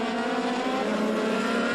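Formula 3000 race cars scream past at a German track in 2002, a loud, continuous high-revving engine roar from close by with no break.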